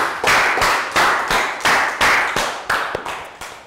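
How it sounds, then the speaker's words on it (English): A class of students in a Year 3 social studies lesson claps for a classmate, loud rhythmic bursts in a regular beat of about two per second, close and without talk. "Big round of applause for Net."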